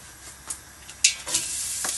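Chopped spring onions hit a hot pan with sharp bursts of sizzling that rise and settle over a couple of seconds, close and fairly loud, with no talking.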